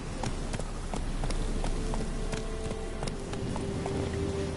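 Roach, a horse in The Witcher 3, gallops with a fast, steady clip-clop of hooves that is loud and close, repeating without a break.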